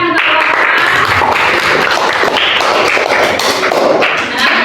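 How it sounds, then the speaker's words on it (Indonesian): Classroom applause after a group presentation during a micro-teaching practice session, a loud dense burst of clapping with some thumping taps mixed in, continuing steadily throughout. "Tepuk tangan untuk"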